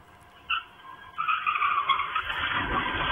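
A car speeding away from police during a chase, with tires skidding and squealing and the engine roaring in bursts, growing louder and rougher toward the end.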